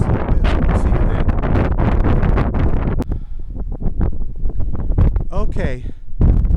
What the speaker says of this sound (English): I apologize for the wind.